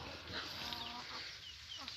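Chickens on a farm during heavy rain, with wet clucking and crowing calls over a steady wash of rainfall noise that fills the whole clip, moderately loud and close.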